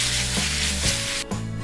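Pork belly with green peppers sizzles loudly in a hot wok as it is stir-fried with dark soy sauce, fish soy sauce and sugar, a continuous close frying hiss broken by brief scraping stirs.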